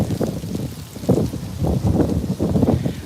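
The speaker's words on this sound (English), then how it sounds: "Now in Baltimore, it is windy, it is cold." Wind buffeting a microphone on a cold Baltimore street in Hampden, a steady rumbling roar with gusty swells, loud and close, no other sounds standing out.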